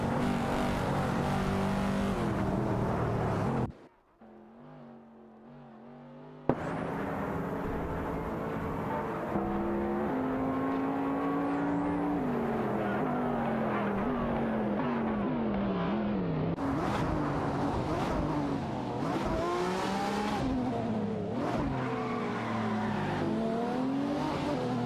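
Race cars in a racing video game, including an Aston Martin and a Ferrari F60 America, roar with loud, continuous engine noise, revving up and down through gear shifts, with one brief drop in the sound early on.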